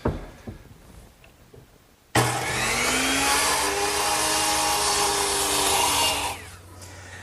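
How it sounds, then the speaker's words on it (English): A woodworker hand saws a miter on a wooden tenon for an English garden bench using a miter box, with steady, continuous rasping strokes close by that start suddenly after a quiet lead-in and stop near the end, no talking. "I'm going to have to miter the corner so that it'll intersect the miter of the other tenon. And I'll do that over here on my miter box."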